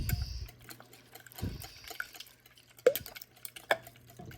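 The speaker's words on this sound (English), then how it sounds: "Now I have my 2 cups of milk going in. Whisk that together a little bit." Eggs and milk are whisked together in a bowl, giving soft, quiet stirring and liquid sloshing with a few light clinks of the whisk against the dish, and no one talks.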